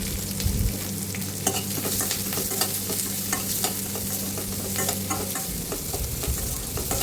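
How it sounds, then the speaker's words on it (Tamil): Fennel seeds, curry leaves, green chili and a large onion fry in hot oil, crackling and sizzling up close while a spoon stirs through them in repeated scraping strokes. "சோம்பு போட்டு நல்லா பொரியணும் அப்புறம் கருவேப்பிலையும் போட்டு நல்லா பொரிய விட்டு ஒரு பச்சை மிளகாய் ஒரு பெரிய வெங்காயம் போட்டு நல்லா வதக்கி விடணும்"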